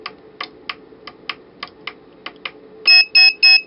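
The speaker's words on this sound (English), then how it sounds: "And our piezo buzzer works." A run of soft ticking clicks, then a piezo buzzer in a combination lock circuit gives three loud, shrill electronic beeps in quick succession, each held for a moment.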